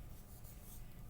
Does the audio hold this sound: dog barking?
no